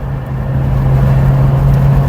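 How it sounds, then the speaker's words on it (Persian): A 16-valve Samand car engine idles steadily with a low, even hum and a constant tonal drone throughout, close and unbroken. "صدای موتور، گوش کن صدای موتور 16 سوپاپ لذت میبری"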